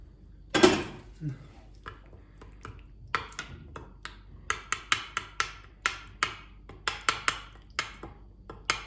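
A spoon works minced meat pide filling with hot water in a bowl, giving one loud clank and then a quick, regular run of sharp clinks against the bowl, close up.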